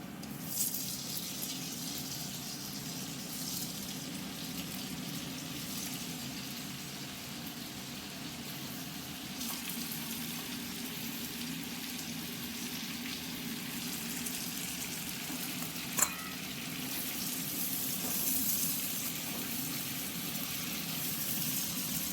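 Green, yellow and red bell peppers with tomato fry in a pan for a Chinese chilli chicken, giving a steady, faint, continuous sizzle throughout with a single brief clink partway through.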